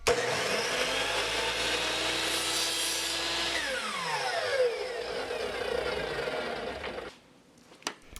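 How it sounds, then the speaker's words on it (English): A chop saw cuts wooden chopsticks to length against a stop block: a loud, steady motor whine with a falling pitch as it spins down, then sudden quiet with a few small knocks. "I just clamped the stop block to the chop saw there"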